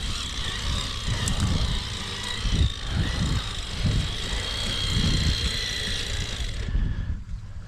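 A Rlaarlo MK07 RC truck with a stripped rear differential runs in front-wheel drive only, its electric motor whining steadily. Gear and ground noise pulse underneath, then the motor cuts off near the end.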